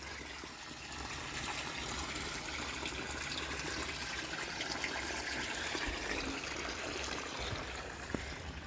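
Water poured steadily outdoors into a dug hole in sandy soil, a continuous broadband splashing rush at even loudness for the whole stretch, with no voices.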